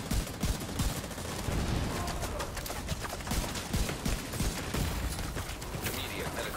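An automated turret in the shooter game The Division 2 fires repeated rapid bursts, a clattering stream of shots at moderate distance mixed with other combat noise and some voices.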